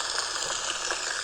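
A Sharper Image sound machine plays a rain track, a continuous wet, splashing hiss with faint irregular patters running steadily throughout.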